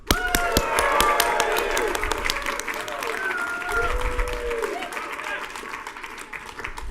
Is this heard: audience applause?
yes